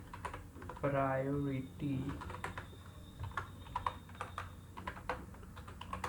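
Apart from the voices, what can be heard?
typing code on a computer keyboard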